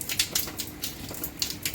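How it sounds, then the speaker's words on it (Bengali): Rain falls in the UAE as an uneven patter of close, crisp drops, with short bursts of splashing over a soft steady wash. "বৃষ্টি পড়তেছে।"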